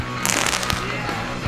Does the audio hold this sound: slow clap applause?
no